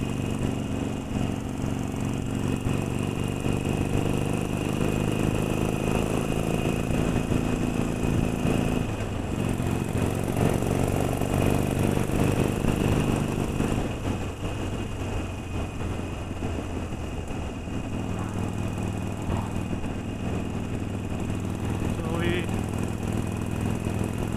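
A Harley-Davidson 883 Sportster rides at the back of a motorcycle convoy led by an Indian, a CV650 and a CVF 1000. Its engine drones steadily under heavy wind rush throughout, with slight shifts in pitch.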